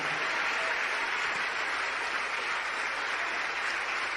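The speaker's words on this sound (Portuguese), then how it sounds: "vamos aplaudir mais o Senhor Jesus por cada vida que está voltando para a casa" Church congregation applauding during an Easter Sunday service, a dense, continuous wash of clapping from many people, steady and loud throughout with no voices standing out.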